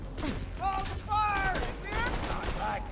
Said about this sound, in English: Okay, that was an explosion.